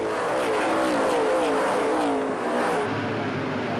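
Stock race cars in a 2005 CASCAR Super Series video game race at Delaware Speedway roar past, a loud continuous engine wash with a falling whine as the pack sweeps by.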